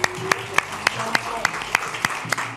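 Sparse applause greets an assistant on a French YouTube game show. A few distinct sharp claps ring out at a fairly even rhythm under ongoing talk and a light crowd murmur.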